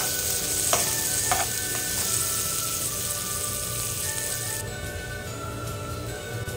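Garlic and onion sauté together in a pan for a Filipino ginisang mung bean sprout and saluyot dish, a constant close sizzle with a few scraping stirs near the start.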